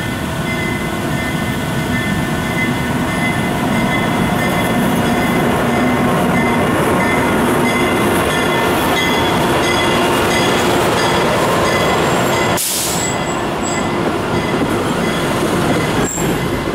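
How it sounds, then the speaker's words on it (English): SEPTA Silverliner 2 and 3 commuter train running on the West Trenton Line, a loud, steady rolling roar with wheel squeal and tonal hum throughout, broken by a sharp jolt near the end. "we'll take a look at everyday operations of the Silverliner 2s and 3s on the West Trenton Line"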